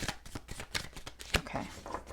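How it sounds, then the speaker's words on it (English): Tarot cards being shuffled by hand, a quick run of crisp riffling and tapping bursts up close and quiet, with no talk over them. "One more shuffle."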